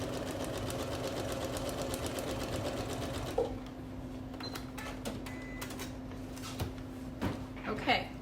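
A sewing machine stitches a paper-pieced quilt block in a rapid, steady run for a few seconds, then stops, followed by quiet handling clicks and rustles of fabric and paper.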